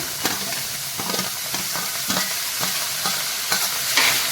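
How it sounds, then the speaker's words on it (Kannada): Chopped raw tomatoes frying in a dry pan with no oil, giving a continuous sizzle broken by regular scraping strokes of a spatula about every half second, close and fairly loud with no talking. "ಇಲ್ಲಿ ಕಟ್ ಮಾಡಿಟ್ಟಿರೋಂಥ ಹಸಿ ಟೊಮೆಟೊ ಈಗ ಇಲ್ಲಿ ನಾನು ಫ್ರೈ ಮಾಡ್ಕೊತೇನೆ"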